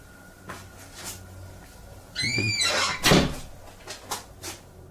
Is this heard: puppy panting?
no